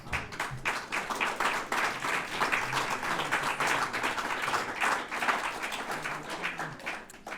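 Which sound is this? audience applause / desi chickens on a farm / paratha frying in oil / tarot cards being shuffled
audience applause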